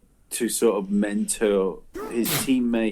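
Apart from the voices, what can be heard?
sneeze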